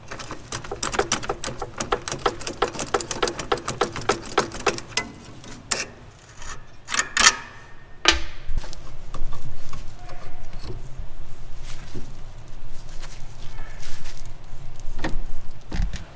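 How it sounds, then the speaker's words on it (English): Bolts are being removed from the steering arms of a Corvair, likely with a ratchet, heard as a rapid series of close clicking ratchet strokes followed by scattered metallic clanks and tool handling noises. "These two bolts are coming out."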